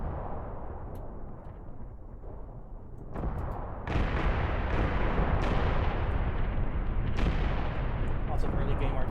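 Artillery fire in the Graviteam Tactics war game, a continuous heavy rumble of distant booms with several sharper blasts swelling louder partway through.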